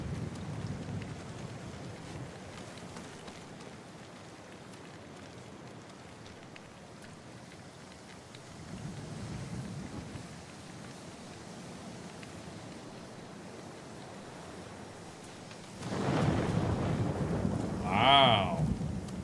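Storm ambience in the video game Ghost of Tsushima: steady rain hiss and wind with low rumbles of thunder that swell at intervals, building to a louder crash near the end.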